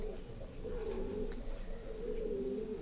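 A mottled pigeon, crossed with homing pigeon lines, coos softly nearby in low, rolling murmurs that rise and fall over a quiet background.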